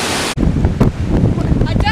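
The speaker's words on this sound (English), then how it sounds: "You can even hear anything because of the wind" Strong wind from Hurricane Isaac roars and buffets the microphone in a loud, continuous rush with gusty surges, outdoors.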